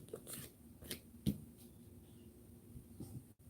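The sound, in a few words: shuffling a deck of tarot cards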